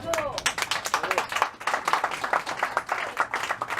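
An audience at a political speech on Québec independence claps in a lively burst of applause, many hands in quick uneven patter, with voices mixed through it.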